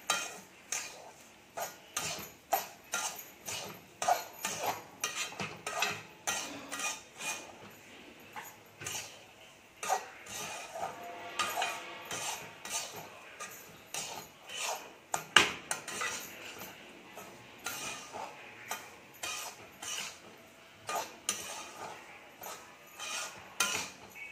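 Semolina roasting in oil in a pan, with steady stirring and frequent clinks and scrapes of a utensil against the cookware. The sounds run close and continuous, and no voice is heard.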